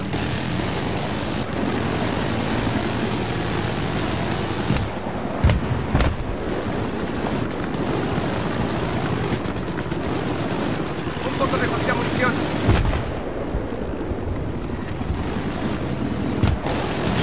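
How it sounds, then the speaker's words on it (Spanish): An enemy helicopter in Battlefield 3 roars loud and constant through a battle on the Noshahr Canals map, a dense broadband din with brief thuds and gaps. No speech. "Acabo de avistar un helicóptero enemigo en vuestra zona, Capio."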